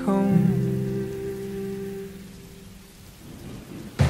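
Rain falling over a fading music track, with a low rumble of thunder and a sudden loud burst at the end.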